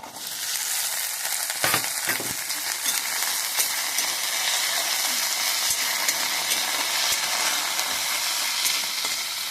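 Onions and peanuts frying for pulao produce a loud, constant bright sizzle with occasional small stirring knocks, close and without speech.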